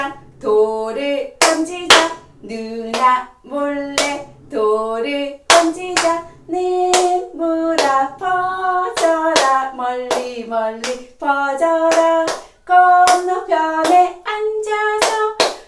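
Rhythmic hand claps mark the beat of a sung finger-play exercise, a children's hand game used as brain gymnastics for seniors to prevent dementia, with clear claps falling between lines of group singing.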